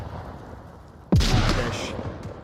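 A gunshot in the VR shooter Onward, a single sharp, booming report that cuts in abruptly after a quiet stretch and then rings out with a rumbling tail.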